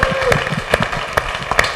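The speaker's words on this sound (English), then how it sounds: "Give yourself a hand clap right here." A group at a community fitness session claps in time, a few sharp, loud beats spaced about half a second apart with some voices underneath.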